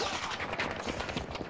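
Dense, continuous suppressed gunfire in the game Battlefield 2042, a steady stream of muffled rapid shots blending into a thick wash of battle noise with no pauses.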